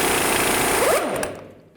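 Impact tool with a 1 1/4 inch socket spinning off the rear differential pinion nut on a 2000-08 GMC Yukon, a loud, rapid, rattling burst lasting about a second before cutting out, close by.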